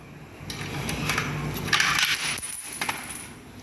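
A quick run of coins, including five-baht coins, rattles and clinks into a Thai coin exchange machine, a dense metallic clatter over a low background hum.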